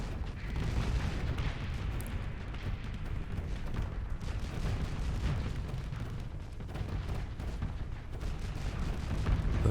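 Missiles fire in a Starsector space battle as a dense, continuous stream of booms and blasts, loud and sustained throughout with no talking.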